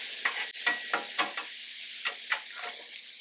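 Bacon on a Blackstone griddle, heard as soft sizzling with a series of sharp scraping strokes from a spatula, roughly eight quick pushes, fairly quiet and close, with no voices.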